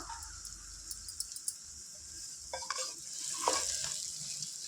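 Country chicken frying with coriander in a pan: a dense, close sizzle under quick spatula scrapes and a few sharp taps against the pan, with stirring swelling briefly near the end.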